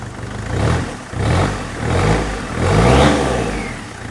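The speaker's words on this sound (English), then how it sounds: "if you rev that throttle pedal," A Citroën engine revs in repeated throttle blips from the pedal, four surging bursts that rise and fall close by, the last one climbing highest before dropping back toward idle.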